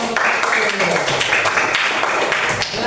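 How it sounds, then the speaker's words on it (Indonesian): Classroom pupils clapping for a group of students, a dense patter of hand claps with a teacher's voice and chatter running over it throughout. "Tepuk tangan untuk kelompok"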